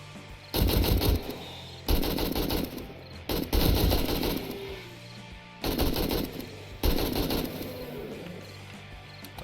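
Automatic gunfire in 7 Days To Die comes in five long, loud bursts of rapid shots, close and punchy, separated by short pauses as the weapon stops and starts.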